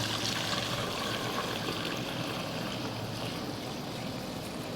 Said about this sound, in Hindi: तो अब इस दूध को, अपने दूध को हम छान लेते हैं